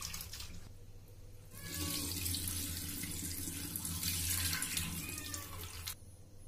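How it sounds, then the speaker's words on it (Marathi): Tap water runs steadily into a sink while sago pearls are rinsed clean, with a continuous splashing rush that swells after the first couple of seconds and then cuts off near the end. "आपण हे साबुदाणे स्वच्छ धुवून घ्यायचे"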